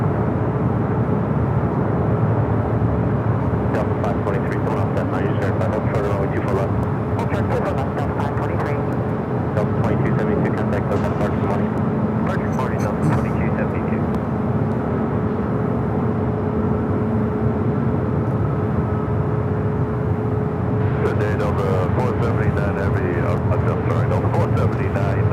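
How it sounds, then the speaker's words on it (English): A United Boeing Dreamliner airliner rolls down runway 25 right at LAX, a steady distant engine roar that swells and fades over a long stretch, with a voice talking over it. "United Dreamliner rolling down at 25 right."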